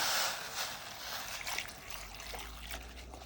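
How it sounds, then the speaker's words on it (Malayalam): A brief splash and trickle of water poured into a vessel, fairly close and alone. "അതാ വെള്ളം ഒഴിച്ച് കൊടുക്കുകയാണ്"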